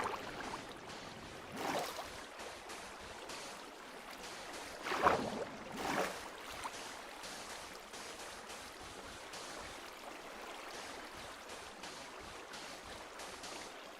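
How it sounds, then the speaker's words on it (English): Steady rushing of flowing water in the Minecraft video game, a continuous even wash running throughout with a few brief louder surges, heard alone without voices. "I don't want to hear any more water."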